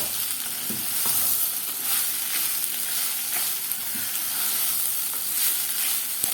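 Salted rice is stir-fried in a pan for a peas-and-carrots dish, with a continuous close, even sizzle and frying crackle broken by soft stirring scrapes throughout.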